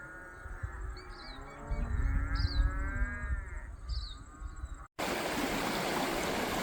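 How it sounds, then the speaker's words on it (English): Cattle moo several times out in open hill country beside a trickling stream, the calls mid-distance over steady flowing water, before a sudden cut to broadband outdoor noise. "It's like the hills are alive with the sound of cows."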